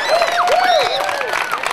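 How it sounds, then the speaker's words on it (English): An audience at an outdoor hemp harvest rally in Lancaster claps and cheers for a speaker, a brief burst of applause mixed with shouted voices and whoops nearby. "give it a warm round of applause for Sean Patrick House of Hempsels"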